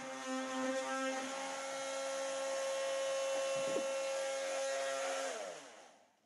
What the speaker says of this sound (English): So this micro vibratory tool is the ticket right here.